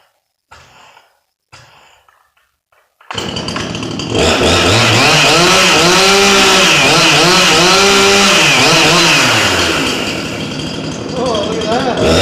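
A restored Husqvarna 350 chainsaw starts up after a couple of short pull sounds. It runs loud and close, revving up and down in repeated swells.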